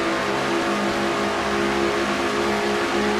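Stock car engine from a NASCAR racing game, heard from the car's view at Clipper State Ford in a series race, holding a loud, steady high-revving drone without a break.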